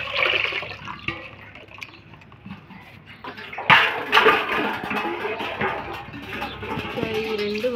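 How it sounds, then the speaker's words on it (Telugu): Water poured over lentils soaking for vada batter in a home kitchen, a steady splashing pour that swells louder midway and runs on continuously, with faint voices in the background. "జస్ట్ అలా వాటర్ పోసి ఉంచేస్తా."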